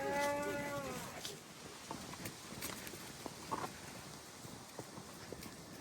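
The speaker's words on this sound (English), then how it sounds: "These cows are holed up in the thick brush this morning" Cattle hidden in thick brush on a mountain pasture during a morning fall gather, with a bellow at the start followed by rustling and faint scattered animal sounds.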